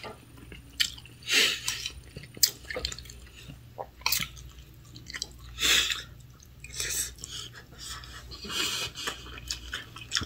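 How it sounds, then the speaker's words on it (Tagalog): Close-up eating sounds during a mukbang: wet, squishy chewing and smacking bursts recur irregularly over a steady low hum, with sharp clicky bites popping out now and then. "Kylie, kain tayo. May mukbang, tara"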